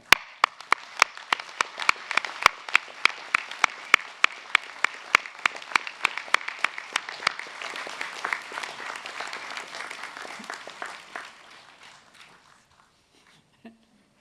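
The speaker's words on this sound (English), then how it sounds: "give them a rousing round of applause, because they too have earned it" Graduates at a university engineering and IT graduation ceremony applaud their families and friends in a large hall, with hearty, even clapping that builds and then gradually thins out and fades to near silence.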